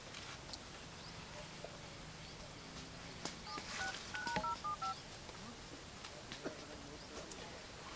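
A mobile phone number is dialed on the keypad, giving a short cluster of faint beeping tones midway through over a low, hushed room background.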